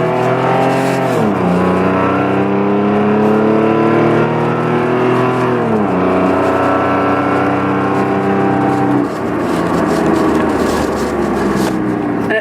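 A car's exhaust roars loudly as it accelerates up a hill, the revs climbing steadily, then dropping sharply at three gear shifts before building again.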